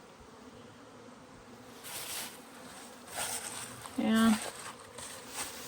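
Honeybees buzzing around stacked hives being prepared for almond pollination, a continuous insect drone with louder passes close by, and a person briefly speaks over it.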